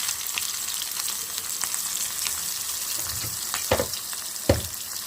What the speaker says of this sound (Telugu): ఫ్రై చేసేస్తున్నాం వీటిని బాగా